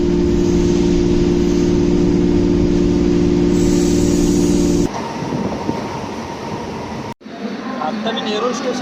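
A suburban train at Nerul station hums and rumbles loudly with a steady drone, then cuts to a rougher rattling passage and a brief dropout before busy platform noise returns.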